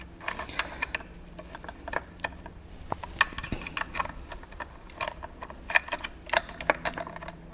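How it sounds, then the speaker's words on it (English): Faint metallic clicks, ticks and clinks from removing a bolt on a Simply 16 quilting machine, scattered irregularly against a quiet background. "I need to hold on to this whilst I remove the second bolt."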